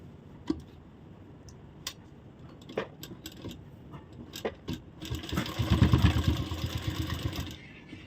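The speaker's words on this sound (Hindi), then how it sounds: "तो सबसे पहले फोल्ड करके हम इसी के ऊपर से सिलाई शुरू कर देंगे।" A sewing machine stitches along a folded fabric edge, first in sparse single clicks and then in a louder, rapid run of needle strokes near the end.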